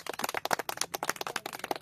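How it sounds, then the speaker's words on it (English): A crowd at an outdoor Toastmasters meeting claps steadily, dense overlapping hand claps forming warm applause that carries through without any voices. "So let's give a big round of applause"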